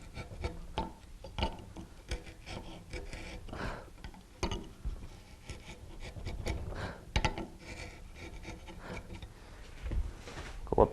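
A chisel carves wood for a ball and claw foot, a series of quiet, irregular scraping and paring cuts with soft taps, close by and unhurried.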